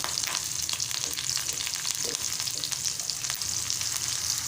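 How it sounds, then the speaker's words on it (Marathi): Green chillies hit hot oil in a pan, giving a close, bright, constant sizzle with a faint crackle running evenly throughout and nobody talking. "आता मी हिरव्या मिरच्या घालत आहे"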